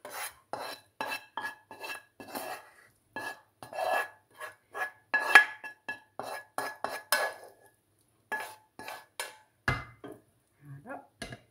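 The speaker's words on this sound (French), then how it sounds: "Je les verse dans ma viande." Cooked garden vegetables scraped from a pan into a dish of meat, a series of short metallic rasps and clinks of a utensil against cookware, with brief pauses between strokes and a heavier clatter near the end.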